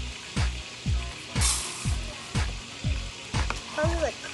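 Rice fries in hot oil in a pan, a steady sizzle broken by regular scraping stirs about twice a second, close and loud.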